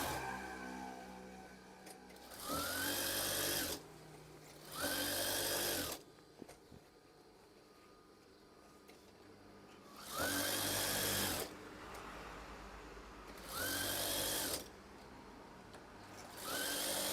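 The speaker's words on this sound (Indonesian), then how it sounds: "setelah itu jahit bagian atasnya" A sewing machine stitches along the top edge of a curtain in four separate bursts of steady mechanical whirring, close and clear, with quiet pauses in between.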